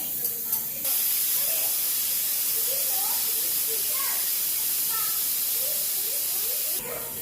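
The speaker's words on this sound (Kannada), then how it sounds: "ಇದನ್ನ ಮಿಕ್ಸಿ ಮಾಡ್ಕೋಬೇಕ್ರಿ ಈಗ" A mixer grinder grinds chopped onions into paste for chana masala, a steady, loud rushing whir that starts abruptly and runs for about six seconds before stopping, with a faint voice speaking over it.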